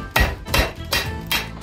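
A hammer strikes a copper tube laid on a hard surface to flatten it, four loud, ringing metallic blows spaced about a third of a second apart, close by and alone.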